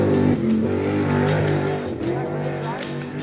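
A small dwarf race car engine revs and whines around the I-37 Speedway track at a distance, pitch rising and falling as it circles, with announcer-style talk over it.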